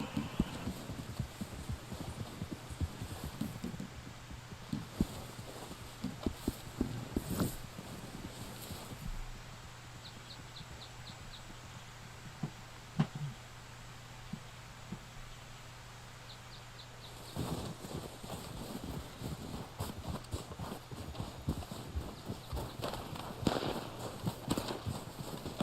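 Horse hooves clip-clopping in the Red Dead Online video game, a soft intermittent tapping rhythm that drops out mid-clip and returns, mixed with faint wind-like game ambience and low background hum.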